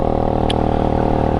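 A motorbike fitted with an aftermarket exhaust holds a loud, steady engine drone close by, with one brief high click partway through.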